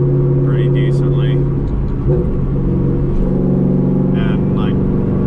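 A Pontiac Trans Am engine rumbles steadily, close and loud, with brief blips of rising revs as the driver rev matches through gear changes.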